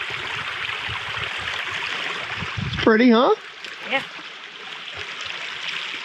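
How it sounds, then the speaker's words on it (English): A clear creek beside a hiking trail flows in a steady, close rush of water, with people briefly talking over it partway through. "Found a beautiful creek."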